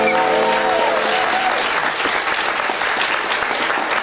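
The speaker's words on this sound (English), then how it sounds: "give everybody involved a round of applause." A crowd at a live concert gives loud, full applause, with the last ringing notes of music fading out in the first second and then only dense, sustained clapping.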